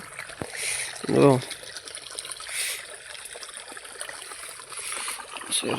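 Irrigation water trickles and gurgles steadily in a shallow channel in a cumin field outdoors, with a brief voice heard early on.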